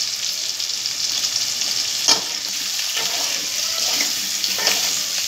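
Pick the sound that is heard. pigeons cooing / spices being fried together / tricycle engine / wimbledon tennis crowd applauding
spices being fried together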